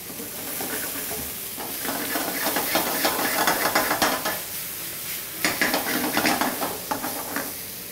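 Zucchini fries in oil and balsamic in a hot pan with a steady close sizzle and hiss, broken by occasional scraping stirs and light utensil clinks against the pan.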